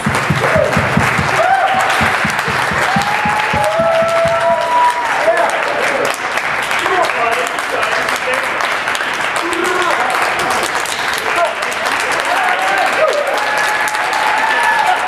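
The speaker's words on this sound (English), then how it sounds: "let's give her a round of applause and welcome her in" Loud, continuous audience applause at a dinner business improv event, dense clapping filling about fifteen seconds, with voices calling out and chattering over it throughout.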